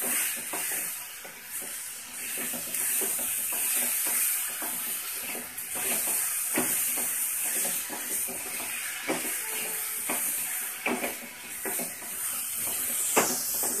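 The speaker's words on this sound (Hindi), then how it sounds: "और गुड़ को अच्छे से मिक्स कर देंगे।" Jaggery melts in a pan for modak as it is stirred, giving a continuous hiss and sizzle broken by repeated scraping strokes of the spoon, close and steady.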